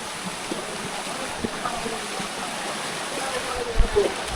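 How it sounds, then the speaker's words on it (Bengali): A waterfall near Chattogram, Bangladesh, roars as a continuous broadband rush of falling water, steady and fairly near, with a few small bumps in level. "ঝর্ণার কাছে আসলাম"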